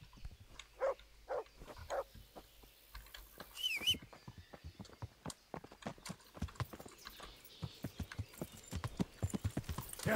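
A horse gallops in Kingdom Come: Deliverance, its hooves beating a rapid, steady clip-clop rhythm up close for the whole stretch, with a brief whinny early on and no talk.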